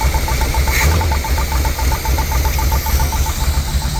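A 1968 Buick Wildcat V8, left sitting for 45 years, idles roughly with a rapid, even tick from a faulty lifter, loud and close with a steady low rumble underneath.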